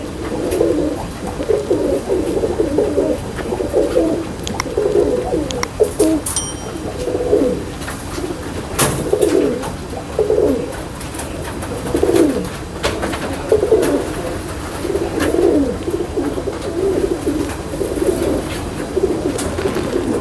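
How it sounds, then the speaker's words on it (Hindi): Golden highflyer pigeons cooing loudly and close by in a steady, repeating rhythm of low rolling coos that carries on for about twenty seconds, with no voices. "जेन्युइन गोल्डन कबूतर है, जेन्युइन पुराने गोल्डनों में से,"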